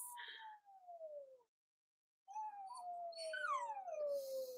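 Dogs howling together at a distance, long wavering cries that break off, pause in silence, then rise again in a softer, drawn-out howl.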